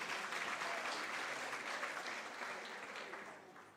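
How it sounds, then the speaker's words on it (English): An audience at an academic library and information science symposium claps hands, steady sustained applause that tapers off near the end. "So you can clap hands for that"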